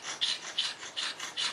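A file rasps back and forth across a guitar nut to cut a string groove, with four steady, close strokes in an even rhythm and no talking.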